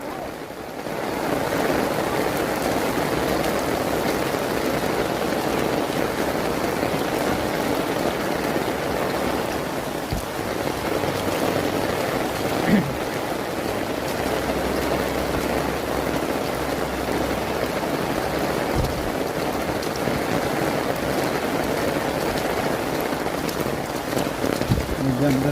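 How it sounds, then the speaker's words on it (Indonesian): Heavy rain pours down steadily and loudly on surfaces outdoors, a dense continuous hiss that fills the whole stretch, with a few faint voices or knocks underneath. "hujan deras ini guys"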